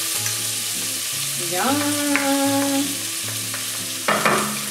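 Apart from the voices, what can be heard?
green onion and garlic frying in a pan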